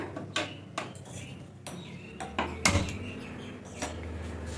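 Sharp, irregular knocks of a knife chopping vegetables on a board in a home kitchen, spaced clicks and clatters with a few louder strikes, close and without talk.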